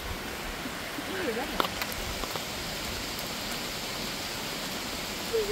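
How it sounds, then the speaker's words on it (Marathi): Steady rain falls outdoors in green countryside at Chaul near Alibaug, a dense, even hiss throughout, with a few faint bird chirps and brief murmurs of people mixed in. "आणि बघा वरुण राजाने पण कृपा केली आणि मस्तपैकी पाऊस आलेला आहे"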